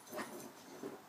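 A dog gives a couple of soft, faint whimpers, brief whiny cries close by in a quiet room.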